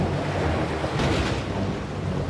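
Cartoon stormy sea waves roar and churn in a continuous, loud wash of noise with a deep rumbling undertone and a brief surge of crashing spray in the middle.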